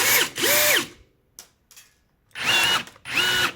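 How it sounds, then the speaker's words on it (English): A Bosch GRG 18V 16 C cordless rivet gun sets 4 by 8 mm aluminium rivets, giving four loud, close motor whirs in two pairs, separated by a few faint clicks and a short quiet gap. "Let's do some field tests, starting with aluminium rivets 4 by 8 mm."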